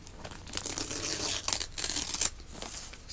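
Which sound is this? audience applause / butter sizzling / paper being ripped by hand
paper being ripped by hand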